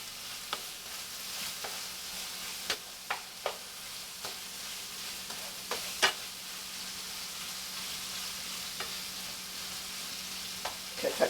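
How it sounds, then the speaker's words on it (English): Turkey pieces fry in a pan with a continuous soft sizzle, punctuated by irregular scraping and tapping as a utensil stirs the meat, close and without talk. "now we've got to get to our turkey because it's frying pretty good. So I'm going to stir it up just a little more."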